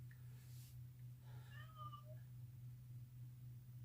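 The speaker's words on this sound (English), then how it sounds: "She'll probably be meowing in the background." A pet cat meows indoors, a short, quiet cry of a few rising and falling notes over a steady low hum; no one talks during the sound.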